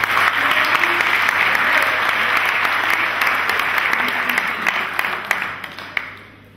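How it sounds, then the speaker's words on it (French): Loud, sustained applause from an audience at the JLM 2011–2012 finale, a dense steady wash of clapping lasting several seconds before thinning out into a few scattered claps at the end. "On peut les applaudir très fort."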